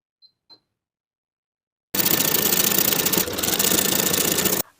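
Sewing machine running a 3/8 inch seam around a stretched turtleneck collar: after two faint clicks, a continuous close mechanical whirr runs for nearly three seconds with a brief dip midway, alone without speech.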